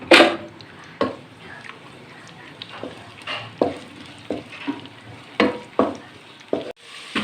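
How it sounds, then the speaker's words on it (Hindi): Lengthwise-cut carrots fry in ghee in a pot, a soft sizzle broken by repeated sharp stirring scrapes about once a second, with no talking. "गाजर को हमने हल्का सा इसमें फ्राई करना है"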